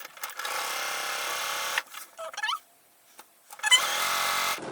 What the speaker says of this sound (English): So I've got them both here so I can see how I'm stitching them.